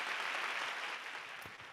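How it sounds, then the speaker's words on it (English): Audience applause during a virtual Journey tribute show, a dense steady wash of clapping with no voices, tapering slightly toward the end. "I had to get them to applaud that time, folks."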